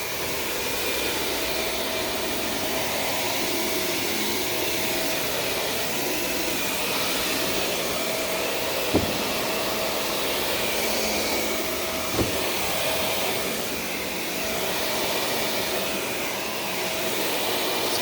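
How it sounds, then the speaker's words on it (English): A vacuum cleaner runs steadily over a carpet in need of professional cleaning, a continuous broadband whir holding at one level throughout, with two brief knocks partway through and no talking. "I still had to vacuum this carpet."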